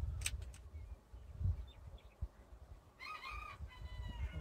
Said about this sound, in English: As you can hear, the roosters crowing.